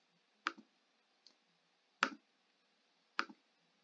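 Computer mouse clicks while modelling a mug in Fusion 360: three sharp double clicks and one faint single click, close and isolated against near silence.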